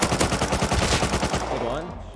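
Rapid gunfire rattles in the video game Rust, a fast burst of loud, tightly spaced shots that fades away in its last moments.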